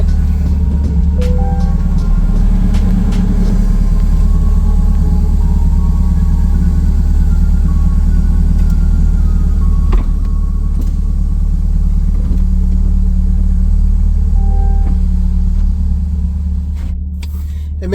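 A Chevrolet Corvette C8 convertible idles with a steady low engine rumble, close and continuous for the whole stretch, with no one talking.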